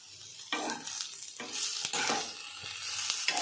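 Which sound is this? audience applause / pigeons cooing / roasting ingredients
roasting ingredients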